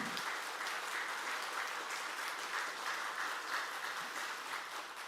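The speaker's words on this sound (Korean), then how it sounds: "잠깐 일어나서 인사하실 때 크게 박수 한번 쳐주시길 바랍니다" A church congregation applauds during a Sunday service, a steady, even wash of many hands clapping throughout, moderately distant and without talk.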